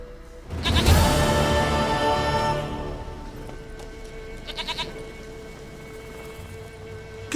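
A goat bleats loudly in a video game, one long wavering cry up close, followed by a softer sustained background of ambient game sound with a few faint clicks.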